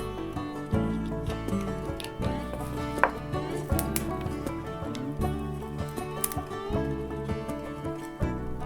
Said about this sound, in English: I'm getting the leverage and I'm drawing that knife through like so